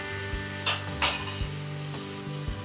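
Ginger garlic paste sizzles steadily in a hot pan while a spoon stirs it, with a few sharp scraping strokes breaking through the continuous frying hiss; no one speaks.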